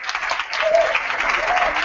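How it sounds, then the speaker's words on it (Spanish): Studio audience on a television magic show bursts into loud, sustained applause, dense clapping that fills the whole moment without a break. "Fuertísimo aplauso a Sudio Merino."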